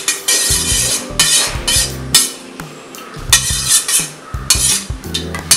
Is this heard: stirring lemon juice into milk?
yes